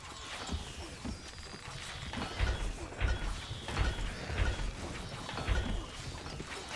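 Horse hooves galloping in Stronghold: Crusader, a fast, steady clip-clop rhythm of repeated thuds over a busy game soundscape with faint voices and ambient noise.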